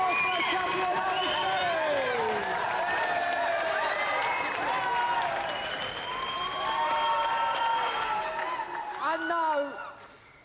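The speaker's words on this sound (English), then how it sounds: "Another round of applause for our champion" A game show studio audience applauds and cheers for the champion, a sustained burst of clapping beneath voices and tonal background sound that tails off at the end.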